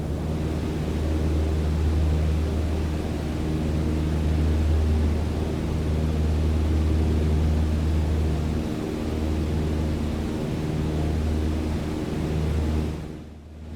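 Steady low drone of a small airplane's engine during a climb after takeoff, a continuous hum with stable tonal layers heard from inside the cabin, no talk.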